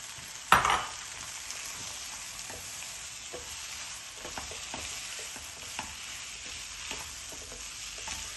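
Peas frying in butter in a pan for gobi keema, a steady soft sizzle with faint occasional scrapes of stirring after one sharp clatter near the start, without talk.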